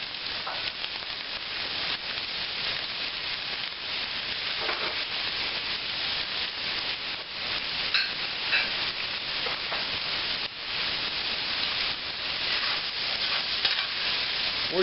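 Artichokes sizzling in olive oil in a hot pan, a loud continuous hiss and crackle with occasional stirring scrapes, close and unbroken.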